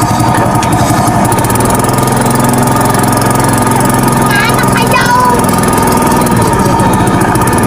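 A motorcycle engine, just kick-started, idles loudly and steadily, putting out a continuous chugging rumble with a brief voice or call partway through.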